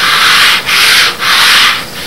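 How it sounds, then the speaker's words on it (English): Close, loud abrasive sanding on a moldless composite car body where the contours meet the body, heard as three long rasping strokes separated by brief pauses, with no talking. "Just finishing up the sanding. The last few contours here where it all meets the body."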